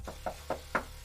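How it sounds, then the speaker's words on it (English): Four distinct knocks on wood, spaced evenly and fairly close, each a short hollow rap against a quiet background with no talking. "Knock on wood."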